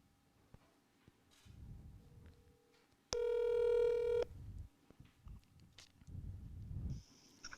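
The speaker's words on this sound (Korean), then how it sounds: "그래서 이 친구에게 제가 한번 전화 걸어보도록 하겠습니다." A telephone call is placed: faint low rumbles and handling noise, then a single loud steady electronic tone lasting about a second, followed by quieter noise and a faint ring tone toward the end.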